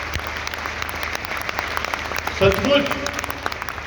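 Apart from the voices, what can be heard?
audience applause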